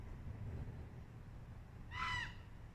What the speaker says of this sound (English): That sound that sounds like a screaming goat, that's a raven.